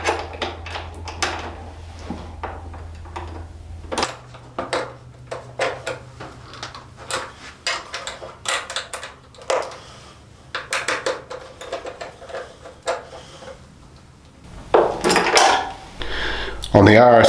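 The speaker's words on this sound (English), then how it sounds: "We can then take our 10mm spanner and our T30 Torx bit and do those two up." Bolts on an Aprilia motorcycle tail tidy being tightened with a 10mm spanner and a T30 Torx bit: repeated small metallic clicks and ratcheting taps close by, a low hum beneath, and a louder clatter near the end.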